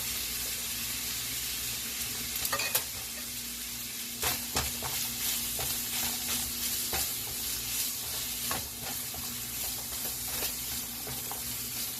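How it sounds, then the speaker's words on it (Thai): Onion and carrot being stir-fried in a pan for a shrimp macaroni dish, a steady sizzle broken by scraping and clinking stirring strokes, close and continuous. "ผัดให้หอมหัวใหญ่สุกนะคะ"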